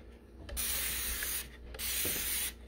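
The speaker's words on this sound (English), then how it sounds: "So, greasy lid. Spray it." Dawn Powerwash dish spray is pumped onto a greasy lid in two short hissing bursts, close and fairly soft, with no talking.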